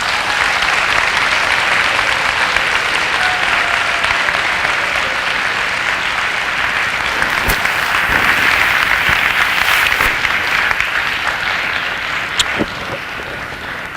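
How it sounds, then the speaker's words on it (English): A school audience gives a sustained round of applause, loud and dense clapping filling the space throughout, with a few sharp clicks and a slight drop in level near the end. "Can you give your school a big round of applause?"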